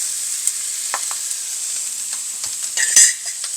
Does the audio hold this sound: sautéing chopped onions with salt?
yes